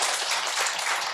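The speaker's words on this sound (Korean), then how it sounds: "박수로 맞이해 주십시오." An audience applauds to welcome a speaker at a Korean book launch event, a dense, steady wash of many hands clapping at moderate loudness throughout, with no talk over it.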